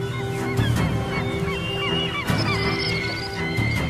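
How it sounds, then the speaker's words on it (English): A flock of birds in wild Japan calls over icy coastal waters, with loud honking, goose-like cries overlapping in a steady chorus and sharper bursts of calls every second or so. "Flocking from sheltered valleys, birds time their arrival with these daily excursions."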